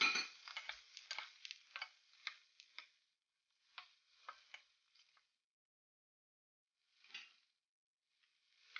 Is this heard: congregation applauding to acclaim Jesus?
no